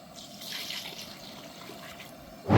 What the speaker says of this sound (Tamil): தண்ணி பத்தலைங்கண்ணா நான் இன்னும் தண்ணி சேர்த்துக்கிறேன்